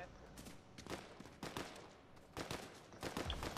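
Enemy gunfire in a shooter video game, quiet bursts of rapid shots repeating in short volleys, with someone talking between them.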